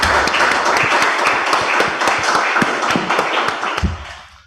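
Scattered hand clapping from a modest lecture audience after an international guest lecture, individual claps distinct and close, fading toward the end.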